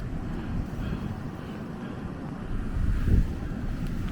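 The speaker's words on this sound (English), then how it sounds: "it's cold out here, and it's windy" Steady wind buffets the deck of the expedition ship Le Commandant Charcot heading north toward the Arctic, a broad continuous roar with gusty swells and a stronger surge near the end, no voices.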